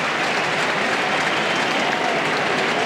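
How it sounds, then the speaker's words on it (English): A stadium crowd at a Giants versus Mets playoff baseball game cheers and applauds in a steady, loud roar that holds without a break. "the crowd will be going nuts, we suppose, in a moment here as Livan Hernandez gets ready to leave"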